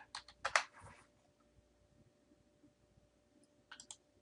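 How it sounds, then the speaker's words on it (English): A computer keyboard is typed on at an office computer during spreadsheet work: quick bursts of light key clicks open the passage, a quieter stretch follows, and a few more soft clicks come near the end. "Now I'm going to start typing IT department."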